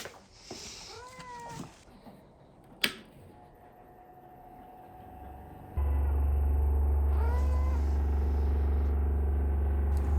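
A vibration plate switches on partway through with a loud, steady low rumble like a huge cat purring, preceded by a cat's meows and a sharp knock, all close by.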